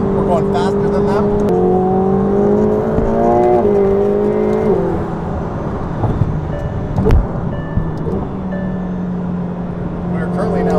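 McLaren 720S supercar merging onto a highway, its engine droning and rising in pitch through gears from inside the cabin, with someone talking over it and road noise beneath.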